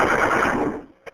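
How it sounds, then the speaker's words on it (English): A burst of rapid recorded gunfire played over an emergency phone call, dense and loud, fading out after about a second, followed by a brief faint click. "The caller also used the sound of gunfire."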